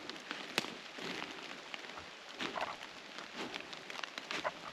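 Rain falling in woods near a bluff, a faint steady patter with scattered sharper drops tapping on leaves and surfaces, sounding alone without talk.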